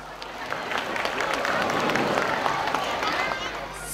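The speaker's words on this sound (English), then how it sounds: "Please give them a big applause." Audience applause at a school graduation and award ceremony, a dense, fairly even wash of clapping from a large hall crowd, swelling slightly and then fading near the end.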